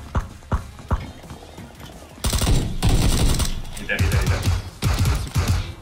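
Rapid automatic gunfire from the battle royale game PUBG, loud bursts crackling over several seconds after a quieter stretch of scattered single shots, with players talking over it.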